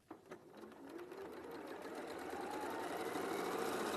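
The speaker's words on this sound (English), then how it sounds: "Take these to your sewing machine." Sewing machine stitching fabric pieces at a quarter-inch seam allowance, a fast whirring motor hum with a few light clicks at the start, steadily building in loudness and running continuously.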